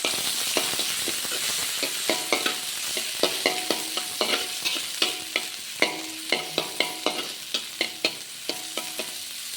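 Onions sauté in a hot pan, a close, continuous sizzle punctuated by a fast, regular series of spatula taps and scrapes as they are stirred.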